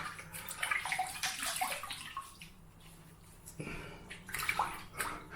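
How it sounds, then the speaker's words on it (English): Water splashing and sloshing as a face is rinsed at a basin after shaving with a vintage Gillette Slim Adjustable razor, with irregular close splashes that come in two bursts around a quieter middle. "Give my face a rinse."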